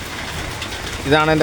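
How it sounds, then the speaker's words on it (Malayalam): Rain pours steadily around a roadside stall near a waiting shed, a dense constant hiss of drops, while a person speaks close over it. "ഇവിടെ മുഴുവൻ മഴയാണ്"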